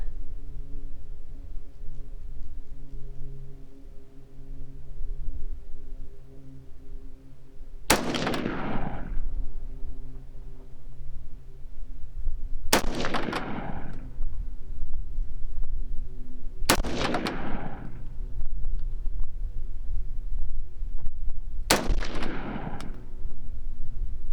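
Four loud, booming rifle shots from a rifle fitted with a budget 1-6x LPVO scope at an outdoor range, spaced roughly four to five seconds apart. Each crack has a short ringing decay over steady outdoor background noise.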